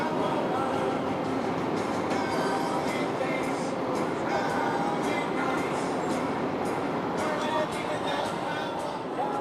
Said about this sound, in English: there's a train carrying all kinds of stuff